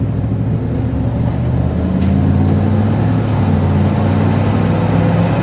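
A 1990 Chevrolet 454 SS pickup with a stock 454 V8 accelerates on a test drive, heard from inside as a steady, loud engine drone that holds and builds without speech.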